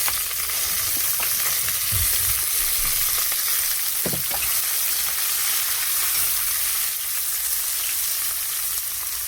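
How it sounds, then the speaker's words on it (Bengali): Chopped tomatoes drop into hot oil with frying garlic and onion, and a loud, steady hiss of sizzling fills the whole stretch, with a couple of soft stirring knocks along the way. "টমেটো কুচি রেখেছি, টমেটোটাই দিয়ে দিচ্ছি"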